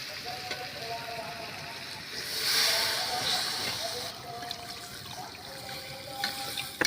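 Water is poured into a hot pan of spiced masala for a drumstick and castor-seed curry, a gentle hiss and splash swelling briefly in the middle over low background noise.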